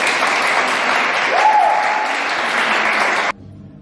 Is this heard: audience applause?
yes